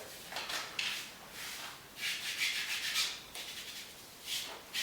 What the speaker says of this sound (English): to activate the glue on the actual tape, you just give it a good rub